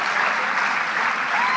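Audience applauding during a talk at Stanford University, a short, dense burst of steady clapping from a large crowd in a hall, with no speech over it.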